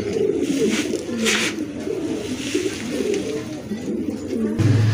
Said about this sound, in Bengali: কবুতর দুইটাই কিন্তু কোয়ালিটি ফুল দেখার মতো